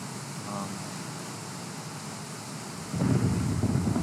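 Steady rain hiss in the Minecraft b1.7.3 game world, with a heavier rumbling burst of weather noise swelling in near the end, no talk.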